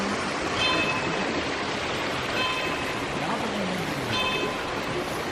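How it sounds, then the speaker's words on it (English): Water flows steadily beside small shrines on the hiking trail to Tiger's Nest (Taktsang) near Paro, Bhutan, while a faint bell chimes at roughly two-second intervals over the rushing stream. "We come near small shrines with sound of water flow and bells."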